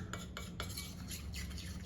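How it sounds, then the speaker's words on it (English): Chocolate chips melting with butter are stirred with a utensil, giving a quick run of light scraping and clinking strokes against the bowl. The sound is close but quiet, with no one talking. "So we'll just mix it a little bit so that butter doesn't splatter."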